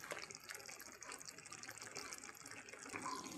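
Half a cup of water poured into a simmering ridge gourd curry with moong dal, giving a brief soft splashing gush that runs steadily for a few seconds at low volume with no voices.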